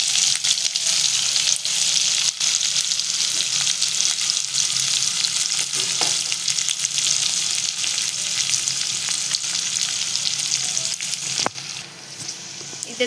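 Chopped onion frying in hot oil in a pan with cumin, a loud, continuous close-up sizzle broken by occasional sharp utensil clicks and stirring scrapes.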